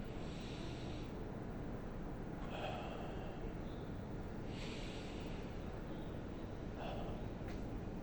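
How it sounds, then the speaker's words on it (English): Slow, deep meditation-style breathing, close to the microphone, with a few audible breath cycles spaced a couple of seconds apart under a steady, loud background rush. "I find taking like 5 minutes, just deep breathing"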